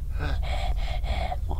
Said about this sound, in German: ich höre hier so ein starkes Atmen.